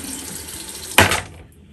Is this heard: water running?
yes